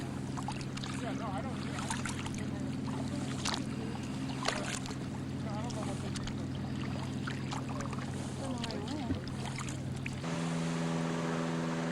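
Paddling a boat back to shore at Acadia National Park, with faint water splashes and drips over a steady low hum of camcorder or motor noise, and a few soft paddle knocks.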